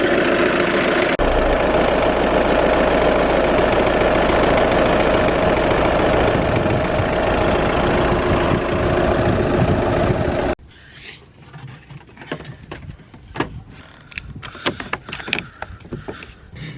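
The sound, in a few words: Cupra TDI car engine starting and idling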